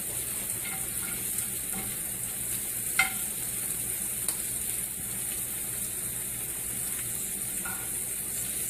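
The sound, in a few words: shrimp frying in a pan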